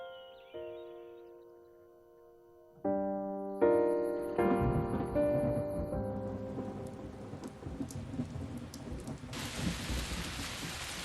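Heavy rain and a rumbling thunderstorm build from quiet to a dense, loud downpour, with steady hiss and low rolls of thunder continuing throughout; no voices.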